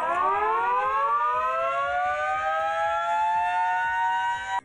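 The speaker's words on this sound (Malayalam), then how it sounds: "മുന്നറിയിപ്പ് നൽകുന്നതിനു വേണ്ടി സ്ഥാപിക്കുന്ന സൈറൺ പരീക്ഷണാടിസ്ഥാനത്തിൽ പ്രവർത്തിപ്പിച്ചു" A civil defense warning siren installed near the Mullaperiyar dam in Idukki sounds during a test, one loud sustained wail rising slowly in pitch and holding steady before cutting off abruptly.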